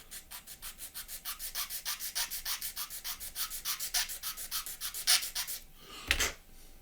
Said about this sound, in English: we're going to flip over to more of a finer sander